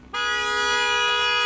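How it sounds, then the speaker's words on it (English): A car horn held down in one long continuous blast, loud and steady, starting abruptly after a brief quiet moment with no talking over it. "We're gonna see how long he's just gonna remain honking."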